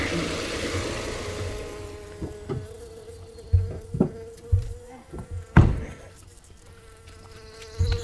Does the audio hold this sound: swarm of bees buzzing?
yes